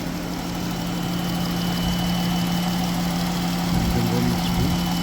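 Freshly replaced 3.6L engine in a Ram Promaster van idles steadily close by, giving a constant low hum with a mechanical vibration and no break in the sound.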